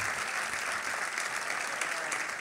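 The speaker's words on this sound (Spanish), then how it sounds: "que suene ese fuerte aplauso" Loud, steady applause from an audience at a gathering of cantadores, a dense wash of clapping holding evenly throughout without a break.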